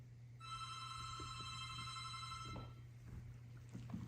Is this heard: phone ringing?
yes